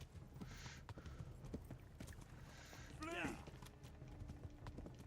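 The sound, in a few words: horse hooves clip-clopping in video game Kingdom Come: Deliverance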